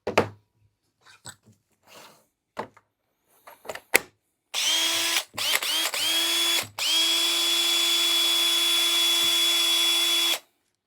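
An aging Makita drill, patched with a little epoxy, whirs in short bursts and then runs steadily at a high whine for several seconds, close and loud, after a few scattered handling clicks.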